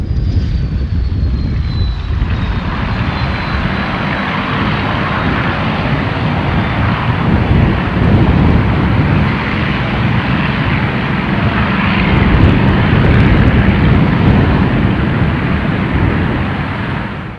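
WW2 Pacific fighter warbirds, a Corsair and a P-40, make a low-level display pass, their piston engines roaring loud and steady with a rising and falling drone throughout.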